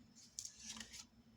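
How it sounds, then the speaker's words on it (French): Scissors snip through pale pink paper in a couple of quick, close, crisp cuts within a quiet room. "j'ai coupé deux morceaux de papier"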